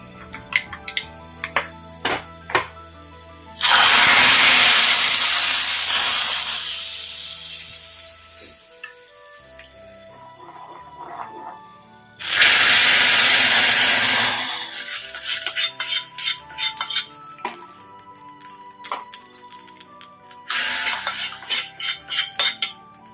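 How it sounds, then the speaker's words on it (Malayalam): Hot curry leaf tempering is poured into a lentil and tomato curry, setting off two loud bursts of sizzling that fade slowly, between clinks of a metal spoon against the pan. "നമുക്കിനി ഇത് കറിയിലേക്ക് തളിക്കാം."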